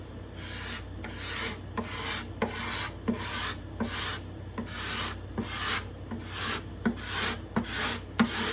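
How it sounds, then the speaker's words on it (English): A hand scraper cuts across the grain of a wooden instrument top during graduation, making about a dozen close, rhythmic rasping strokes, each a short scratchy swish with brief pauses between them. "I'm also feeling how the scraper's cutting."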